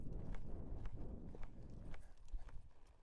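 A young filly's hooves clop at a steady walk after a lope, close and faint, with an even four-beat rhythm over soft ground.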